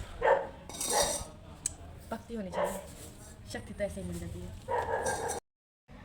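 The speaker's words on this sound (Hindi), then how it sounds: "मेरा कुत्ता इतना भौंक रहा था" A dog barks several times in a home during morning chores, with yips and whimpers mixed in. The barks sound close and come in bursts over a woman's speech before the sound cuts out.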